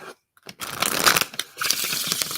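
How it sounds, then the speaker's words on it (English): A deck of cards is shuffled close up in a few quick riffling bursts separated by brief pauses, with no talking. "One more shuffle on that."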